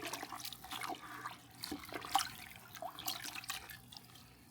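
Water sloshes and drips as it is stirred through worm bin bedding, soft and wet with small splashes and trickles, fairly faint and close by.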